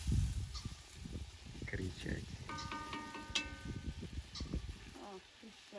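A pheasant calls its chicks in short, repeated clucking notes amid crackling outdoor noise and low rumbles.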